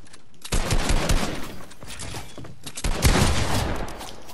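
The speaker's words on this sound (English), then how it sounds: "No, I didn't mean to shoot you." Rapid bursts of gunfire in a Fortnite-style box fight video game, loud and dense, arriving in two clusters of automatic fire separated by a brief pause, with no talking.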